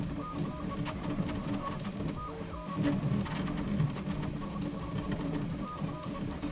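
A Bambu Lab X1 Carbon 3D printer runs with its door closed, a steady muffled whir of fans and motors with faint rhythmic mechanical ticks, close and continuous under low background sound.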